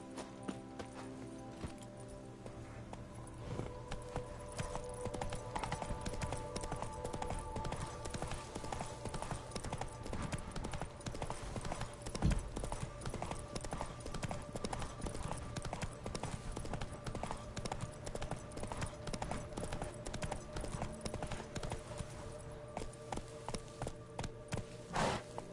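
The horse Roach from the video game Witcher 3 trots along with a steady, rhythmic clip-clop of hooves. The hoofbeats carry on continuously over a soft in-game ambient background.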